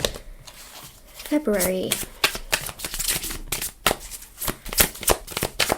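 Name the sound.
playing cards being handled and shuffled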